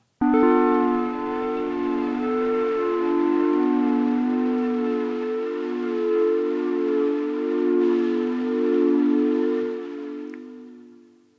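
A sustained synth chord rings out with slowly wavering, shifting tones, holding steady for about ten seconds before fading away.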